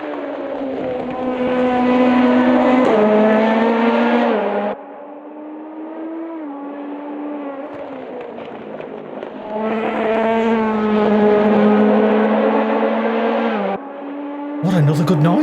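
A race car engine in the Automobilista 2 sim game drones in a loud harmonic tone, rising and holding through the gears, easing off to a lower pitch mid-clip, then climbing again before another shift.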